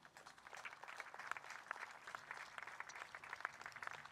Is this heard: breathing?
no